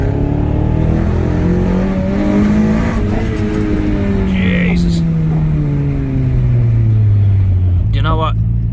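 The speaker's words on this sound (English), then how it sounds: "But when it does go into VTEC," A Honda Prelude 2.2 VTEC engine revs hard, its pitch sweeping up and then falling back, loud and close, while someone talks briefly.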